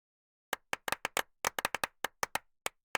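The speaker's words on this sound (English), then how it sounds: "Let's give them all a big round of applause." Characters in the video game My Time at Sandrock clap in a short, sparse burst, with about a dozen crisp, separate hand claps spaced irregularly over a few seconds and no talking.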